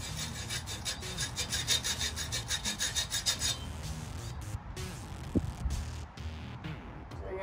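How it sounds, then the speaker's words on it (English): A hand saw grinds a cut line into a cylinder lock piece for a patio sliding door, a steady rhythmic rasping of back-and-forth strokes up close that breaks into scattered scrapes and knocks partway through. "to cut this piece, we're gonna need a saw like this one, and you're supposed to grind on the line that you're gonna cut the thing on"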